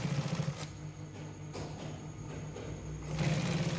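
A sewing machine stitches rickshaw hood fabric in a quiet workshop, its motor humming in a steady drone that eases off mid-run, then picks up again louder near the end.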